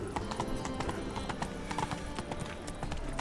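Hooves of Roach, a horse in The Witcher 3: Wild Hunt, clop in a quick, steady galloping rhythm, close and fairly loud, with other game sounds in the background.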